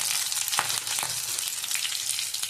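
Curry leaves dropped into hot oil for lady's finger bhaji, giving a steady close sizzle and spatter with a couple of sharper crackles, no talk.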